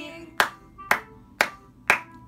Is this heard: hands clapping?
yes